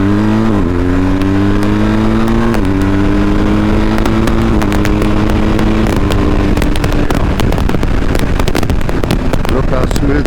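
A BMW GS 1250 HP motorcycle pulls off gently and accelerates, its engine note climbing steadily through several smooth upshifts. The engine is loud and close, with a voice talking over it.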